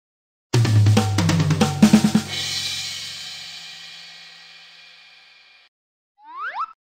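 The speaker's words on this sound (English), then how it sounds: "Drum set." A full drum set plays a short, loud burst of kick, snare and tom hits in a quick fill, ending with a long crash cymbal that slowly decays, then a brief cartoon-like chirp.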